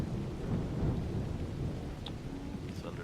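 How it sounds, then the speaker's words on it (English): Thunderstorm in the video game Assassin's Creed Odyssey: a low, rolling rumble of thunder over a steady wash of rain, fairly quiet and continuous, with no voices. "Thunderstorm."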